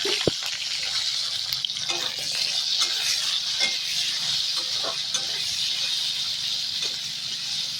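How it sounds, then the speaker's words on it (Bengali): Potatoes fry in oil in a pan, a steady close sizzle and hiss with occasional stirring scrapes and small clinks, and no speech over it. "আলুগুলো ভাজা হয়ে গেছে নামিয়ে নেবো"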